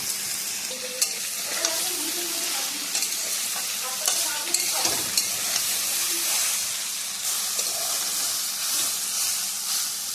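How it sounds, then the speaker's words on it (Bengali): Water lily (shapla) stems frying in a pan with water on high heat in a village kitchen, a loud, steady hissing sizzle and steam with occasional stirring clatter up close. "শাপলা ভাজতে বেশিক্ষণ লাগে না, 5 থেকে 7 মিনিট লাগে।"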